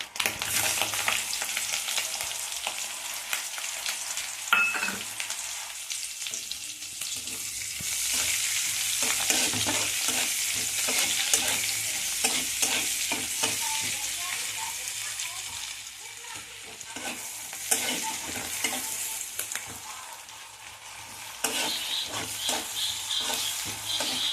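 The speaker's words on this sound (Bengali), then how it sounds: "এই তেলের মধ্যেই আমি ছেড়ে দিচ্ছি পেঁয়াজ কুচানো" Chopped onions hit hot oil in a pan for a fish roe and potka chochori, with a loud, continuous sizzle, repeated stirring scrapes and clatters, and occasional quiet talk underneath.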